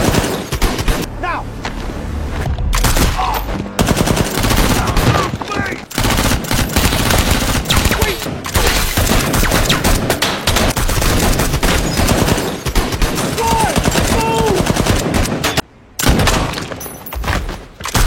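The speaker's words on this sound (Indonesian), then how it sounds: "kontak senjata dar-der-dor di antara mereka tidak bisa dihindarkan" Gunfire in a film police shootout with bandits, rapid bursts of shots and fusillades, loud and dense, with brief pauses and scattered shouting voices mixed in.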